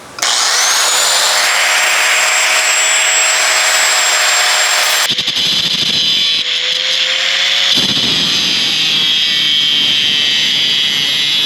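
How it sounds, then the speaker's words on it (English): An angle grinder cutting into a shoe, a loud high whining spin that holds steady, then shifts into harsher grinding and rasping as the disc bites the material, close and without talking. "I'm gonna say the angle grinder won that one"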